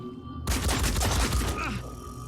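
Burst of gunfire in the turn-based tactical game Phoenix Point, a dense fusillade of rapid overlapping shots lasting about a second and a half, loud and close, tailing off into a softer rumble.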